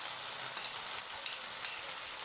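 Chopped garlic and onion frying in a pot for a one-pot chicken cheese pasta produce a continuous, even hiss of sizzling oil, close and steady with a few faint ticks.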